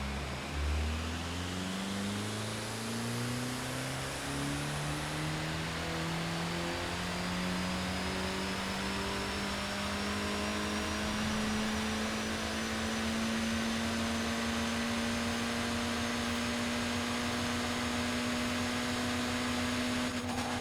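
An upgraded Mini in Forza Horizon 4 pulls from a standstill in sixth gear, its engine note rising slowly and steadily in one long, strained climb with no shifts and no talk.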